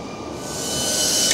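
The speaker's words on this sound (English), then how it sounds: "Anyhow, the train is here." A passenger train pulls into Denton station, its steady rumble and hiss swelling louder over a second and a half as it nears.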